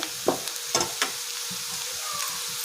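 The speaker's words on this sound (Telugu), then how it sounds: "ఫ్రై చేసుకోవాలి ఆనియన్స్ అన్నీ బాగా ఫ్రై అయినాయండి" Onion pieces fry in a pan for egg curry, a faint steady sizzle under a few sharp stirring scrapes and clinks near the start, close by with no talking.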